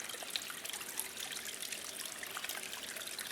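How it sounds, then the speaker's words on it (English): Soft, continuous trickling and bubbling of water at a hot spring in Mexico, faint and steady with small splashes and no voices. "and the sound of bubbling water."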